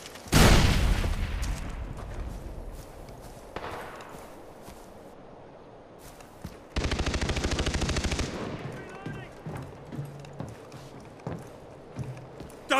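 Gunfire in the shooter video game Far Cry 3: a loud opening boom, then bursts of rapid automatic fire, including a dense sustained volley midway, over busy game background noise.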